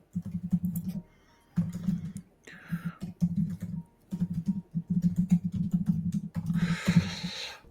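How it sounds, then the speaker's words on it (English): Keys clatter on a computer keyboard in quick bursts of rapid taps separated by short pauses, fairly close and moderately loud, with a brief rustle near the end. "Of course you're typing."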